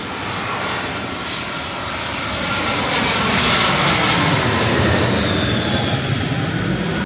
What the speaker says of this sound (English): you're going to get buzzed by a plane